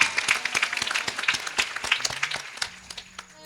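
An audience at a kirtan at a Kalbhairavnath temple gives a short burst of hand clapping. The dense applause is moderately loud, then thins and fades out near the end.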